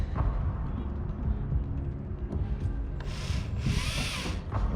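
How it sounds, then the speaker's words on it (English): On a narrowboat, a drill bores a 5mm hole through the steel cabin top. A low, rough rumble of grinding builds into a louder, higher whine near the end, with some voice underneath. "So we'll drill a 5mm hole through here"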